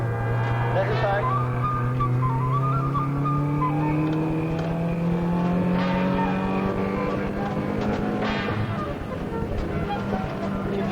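A racing car is driven hard at Mondello Park, the engine droning loudly with steady rising pitch through the gears, while a voice talks over it throughout.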